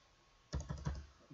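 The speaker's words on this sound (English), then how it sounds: "I'll try typing it in one more time just to make sure I didn't make any mistakes" Four or five quick keystrokes tap on a computer keyboard, quiet and close, in a short burst after a moment of near silence.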